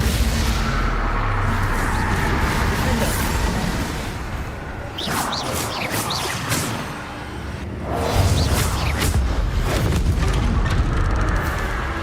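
Spell combat in Hogwarts Legacy, with fire and blasting spells cast in quick succession: a steady roar of crackling blasts, whooshes and booming explosions, easing briefly in the middle before swelling loud again.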